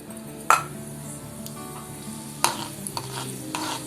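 Tempering seeds crackling in hot oil in a pan for flattened rice upma, a soft sizzle broken by a couple of sharp metallic taps and stirring clinks.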